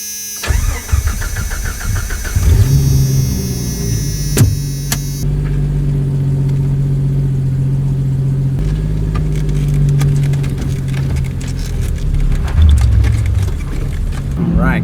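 A Jeep YJ engine cranks and catches, then settles into a loud, steady rough idle with a deep rumble and slight revving near the end.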